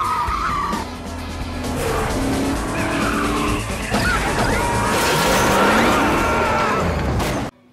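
Tires skid and squeal during a movie car chase as engines rev hard. Loud screeches and a crash-like impact come through densely over about eight seconds, then cut off abruptly.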